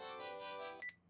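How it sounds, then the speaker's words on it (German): A new phone ringtone plays as a short, faint electronic melody of sustained tones, ending in a brief higher beep, heard alone with no talk. "Guck mal, ich hab einen neuen Klingelton, hab ich den schon mal gezeigt?"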